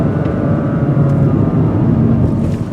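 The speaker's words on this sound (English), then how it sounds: "So you can just rev the crap out of it all day long." A 2015 Honda Fit engine revs hard near redline, a loud, sustained droning roar with a steady, slightly wavering pitch heard from inside the car.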